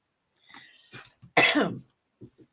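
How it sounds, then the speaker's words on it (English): A person coughs a few times close to the microphone, one harsh cough louder than the rest, with a throat-clearing sound. "So you guys got to hear me cough."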